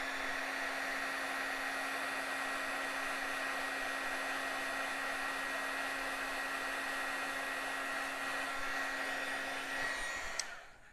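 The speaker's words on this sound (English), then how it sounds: "I'll heat up my heat tool and we'll melt the powder" Heat tool blowing a steady, loud whooshing hum while melting embossing powder on a stamped card, running continuously for about ten seconds before cutting off abruptly, with no talking.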